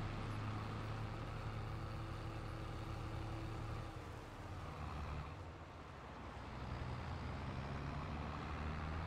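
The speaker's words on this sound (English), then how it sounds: "we'll drive this down to the other end and we'll get another tractor" A tractor from an Allis Chalmers fleet drives in Farming Simulator 22, with a steady low engine drone and road rumble that dips briefly midway, then continues evenly throughout, without talk.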